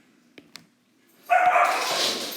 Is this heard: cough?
no